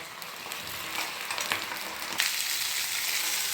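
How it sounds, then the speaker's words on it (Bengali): Pasta with cauliflower and capsicum sautés in a pan with splashed pasta water, a constant close frying hiss with some stirring scrapes, and the sizzle swells louder about halfway through; no speech. "এবার আমি ভালো করে এর সাথে কষিয়ে নেব।"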